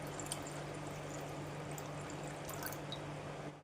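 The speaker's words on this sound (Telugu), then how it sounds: "షుగర్కి 2 గ్లాసులు వాటర్," Water pours from a glass onto sugar in a pan for gulab jamun syrup, a soft continuous stream heard close but quietly, with no speech over it.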